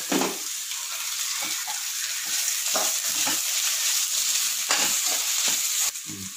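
Onions and green chillies frying in a pan for bagara rice sizzle loudly and steadily up close, with repeated spatula scrapes and stirring knocks throughout.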